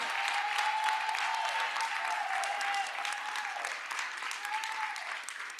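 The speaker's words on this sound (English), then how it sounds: "A round of applause," A crowd at a school board meeting applauds athletic award winners with steady, dense clapping that holds strong, dips slightly partway through and continues, with a faint voice humming underneath.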